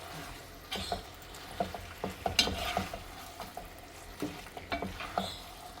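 Dragon chicken is stirred in a pan, producing repeated scraping and clinking strokes over a low frying sizzle, close-up and moderately quiet, with no voices.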